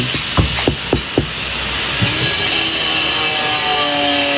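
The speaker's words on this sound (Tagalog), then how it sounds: "Maingay yung construction dito." Sawing at a house under construction: a few sharp, rhythmic strokes up close, then a steady, loud rasp and hiss of work noise continuing throughout.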